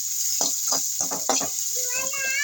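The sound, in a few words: shallots and tomato sautéing in pan for liver fry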